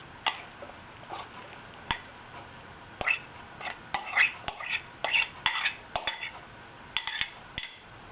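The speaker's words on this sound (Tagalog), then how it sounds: "Imimix natin yung minced onion. Then, yung minced na water chestnut." Minced onion and water chestnut being mixed for molo soup filling, heard as a run of light spoon clinks and scrapes against a bowl, irregular and close, with no talking.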